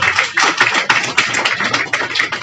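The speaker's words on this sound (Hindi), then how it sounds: "तालियां हो जाए।" An audience claps loudly and steadily at an Indian Medical Association Bihar state branch gathering, producing a dense run of close, continuous hand claps.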